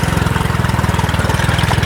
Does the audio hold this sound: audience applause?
no